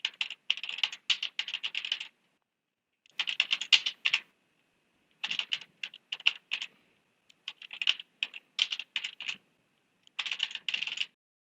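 Steady, close-up typing on a computer keyboard fills in text boxes of a digital physics lab manual. Quick clattering bursts of keystrokes are broken by short silent pauses, with no talking.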